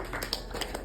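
A few soft, close hand claps during posture practice, roughly four light, evenly spaced smacks over a faint background hum, quiet and brief.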